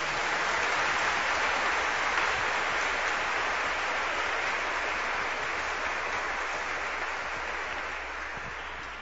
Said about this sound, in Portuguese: Ele merece uma grande salva de palmas.